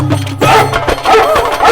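Recorded dog barking played back from a device as a prank: a few loud, close barks and yips in quick succession, filling the short moment with no talk.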